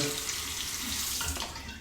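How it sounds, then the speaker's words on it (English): Cold tap water runs steadily from a faucet over an alum block at a sink, a soft continuous splash close by, short and unbroken. "soak it under the cold water"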